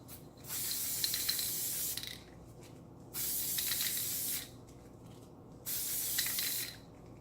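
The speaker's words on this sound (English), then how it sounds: "I'm just going to spray all the way around until I can see that it's covered." Loctite adhesive is sprayed from a can onto a stainless steel tumbler in three separate hissing bursts of about one and a half seconds each, with quiet gaps between them, heard close and alone.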